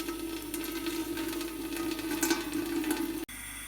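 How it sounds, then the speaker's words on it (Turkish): Cold water pours steadily over loose tea leaves as they are rinsed for a second time, a soft continuous running trickle that cuts off near the end. "Soğuk suyla ikinci kez tekrar yıkıyoruz."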